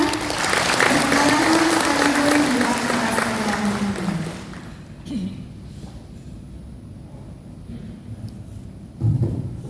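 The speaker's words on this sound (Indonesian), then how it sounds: "Boleh kita iringi dengan aplaus yang meriah" Applause from an audience at a formal regional government event in Lamandau, welcoming the regent to the stage, dense and loud at first, then thinning out after about four seconds with a few scattered claps and a brief final burst.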